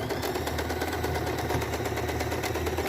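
Sewing machine stitching red fabric, a steady, close, continuous motor hum with rapid needle rhythm running throughout without pause.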